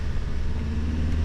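A motorhome rolls along an open road, giving a steady low rumble of engine and tire noise with no voices.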